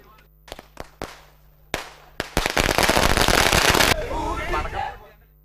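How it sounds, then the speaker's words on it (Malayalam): A few sharp separate bangs, then a rapid, loud string of firecrackers crackling for a couple of seconds before fading into murmuring voices. "നാട്ടുകാർ പടക്കം പൊട്ടിച്ച് ആഹ്ലാദ പ്രകടനം നടത്തി"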